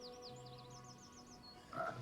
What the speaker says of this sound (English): Giant frog.